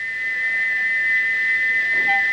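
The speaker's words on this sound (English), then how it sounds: "Gordon puffed sadly away, but he wouldn't stop whistling until two fitters climbed up and knocked his whistle valve in place" A steam engine's whistle shrieks without stopping, a steady high sustained tone held at constant loudness for the whole stretch with no pauses.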